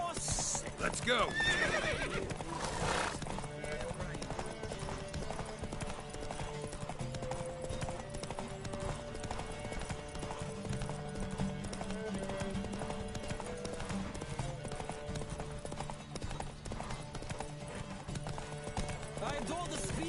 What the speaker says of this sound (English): Don't spare the horse! Let's go!